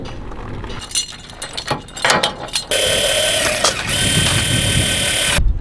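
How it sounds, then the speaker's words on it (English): Metallic clicks, rattles and clinks as a hitch lock is fitted onto an Airstream trailer hitch, followed by a sustained bright mechanical whir or grinding sound, close up. "One of the last things I do is add my hitch lock."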